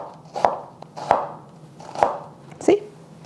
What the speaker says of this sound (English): So let's just chop it up.